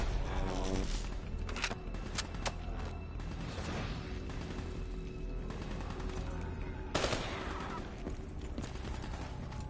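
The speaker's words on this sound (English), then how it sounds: "what is it with the 3-round bursts?" Gunfire in Call of Duty Black Ops 3 on PS4, with rapid bursts of shots and clattering weapon sounds over a steady layer of game noise and music, loud throughout the clip.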